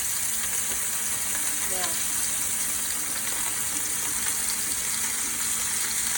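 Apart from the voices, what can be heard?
pot roast meat sizzling in a hot pan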